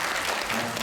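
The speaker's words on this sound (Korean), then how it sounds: "박수 쳐주세요" A church congregation claps in welcome during a Sunday service, a dense, steady burst of applause filling the room with no break.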